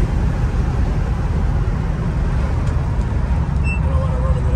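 A 1964 Ford Custom 500 with an FE 390 engine and four-speed, driving with a loud, steady low rumble of engine and road noise filling the cabin, close and continuous.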